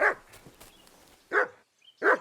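A dog in Kingdom Come: Deliverance 2 barks three times in short, loud bursts, with a long gap after the first and a quicker pair at the end, fairly close and alone.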